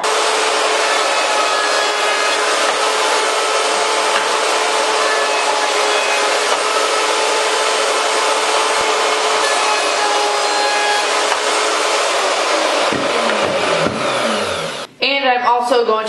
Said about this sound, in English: I'm just using a 1/4 inch round over bit to round over the top sides only.